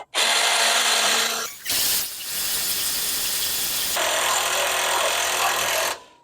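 An impact driver fitted with a socket cranks a Kohree 8000 lb electric drill-operated trailer jack, giving a loud, close, continuous whirring hammer with a brief break near the two-second mark before it runs steadily again.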